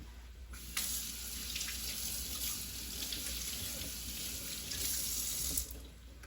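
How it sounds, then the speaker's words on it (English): Tap water runs steadily from a kitchen faucet as green onions are rinsed under it, a constant close splashing stream with slight changes as the onions pass through, starting and stopping abruptly. "I'm just gonna rinse them under water just to kind of wash them a little bit"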